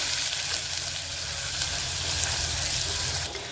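Finely chopped large onion hits hot oil with popped mustard seeds and cumin for a Tamil beetroot kootu. A loud, dense, continuous sizzle fills the clip and eases slightly at the very end, with no talking.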